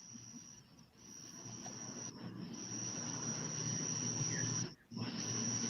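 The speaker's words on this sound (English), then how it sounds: "what they're hearing is probably crickets" Crickets chirping at night, a high steady trill that is faint but continuous, with brief gaps where it drops out, over a low hum of background noise.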